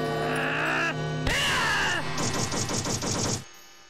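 Gunfire in a SpongeBob video game, a dense run of rapid shots packed together in the middle of the clip, loud over game music and sound effects.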